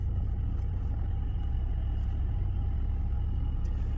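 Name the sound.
car engine idling smoothly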